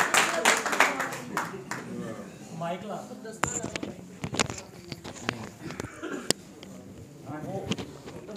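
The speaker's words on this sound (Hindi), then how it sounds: "तालियों से इस्तकबाल करें अब्दुल रहीम दाइम" Audience in a Hindi-Urdu mushaira clapping to welcome poet Abdul Rahim Daim: sharp, irregular claps close by, bursting loudly at first and then thinning into scattered patters, with faint murmuring voices underneath.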